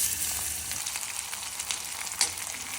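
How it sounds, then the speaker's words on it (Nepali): Onions sizzling steadily in hot oil in a home kitchen, a close, continuous crackling hiss with a few sharper pops and no voices. "अनि तातो अब म प्याज हाल्छु"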